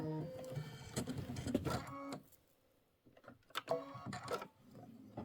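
An embroidery machine stitches a Christmas quilt wall hanging block in rapid, rhythmic mechanical bursts, pausing briefly midway before resuming, fairly close and moderately loud.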